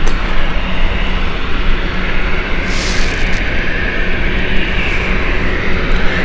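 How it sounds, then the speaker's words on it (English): A Wizz Air jet departing Gatwick for Rome, a loud, continuous broadband jet engine roar up close, steady and dense with slight surges in intensity. "Going out right now is Wizz Air, Rome."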